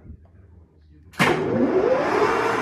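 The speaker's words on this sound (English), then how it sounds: "So I switch the lathe on." An Okuma LS lathe motor starts abruptly after near silence, jumping straight to a loud, steady whirring hum that keeps running close by.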